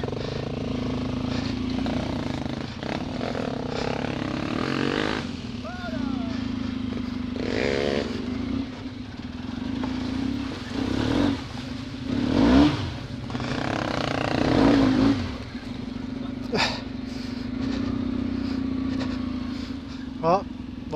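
An off-road trail motorcycle rides at full throttle on a forest trail, its engine droning loud and steady throughout with rising revs and clattering over rough ground, while riders talk over it.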